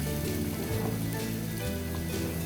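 About one and a half cups of chopped onion frying in a pan until lightly browned, a constant close sizzle with a faint low hum underneath and no talk.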